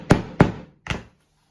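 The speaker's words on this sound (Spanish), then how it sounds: "doblamos las patitas con el martillo" A hammer strikes metal tabs to fold them onto leather: three sharp knocks, two in quick succession and a third after a short pause, close and clear with no talking.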